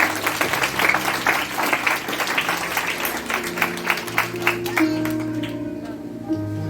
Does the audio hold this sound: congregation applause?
yes